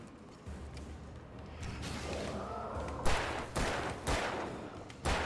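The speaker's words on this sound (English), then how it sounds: "I'm firing wildly. I can't hit shit." Gunfire in the video game Alan Wake, a series of sharp shots bursting out irregularly over a continuous low rumble of game ambience, fairly faint overall.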